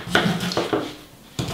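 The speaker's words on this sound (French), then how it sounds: "Je vais faire des rondelles." Knife cutting a purple turnip into rounds on a board, giving a few short crisp chops spaced apart, close and moderately loud, with a brief quiet gap before a final cut.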